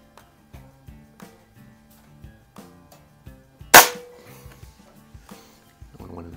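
A single sharp, loud crack from a .177 air rifle, either a Walther LGR or a Benjamin Marauder, is fired at a target and decays quickly. Soft background music plays throughout.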